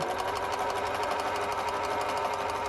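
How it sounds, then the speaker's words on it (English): A sewing machine stitches fabric in a fast, steady mechanical chatter, close and even throughout with no voices. "Set your foot down and sew."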